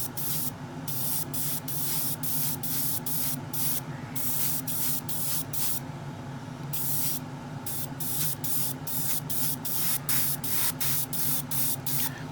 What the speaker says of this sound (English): loading up the airbrush and spraying it and getting that